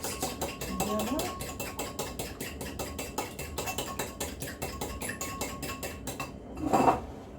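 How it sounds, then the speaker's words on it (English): An egg whisked in a bowl gives fast, even metallic clinks at a brisk rhythm for about six seconds, then stops, followed by a brief scraping sound. "Just whisk this egg together just so it's mixed together."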